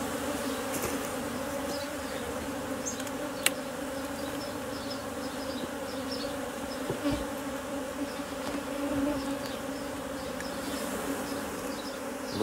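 Honeybees hum steadily around an opened, smoked beehive while frames are lifted during an inspection, a dense continuous buzz close by with occasional light knocks and handling sounds.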